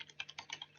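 Quick keystrokes on a computer keyboard, about a dozen light clicks in an uneven rhythm over a moment, close and fairly quiet, with no voices.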